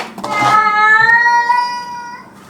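A single pet cat gives one long, loud meow up close. The drawn-out, wavering tone fades away at the end.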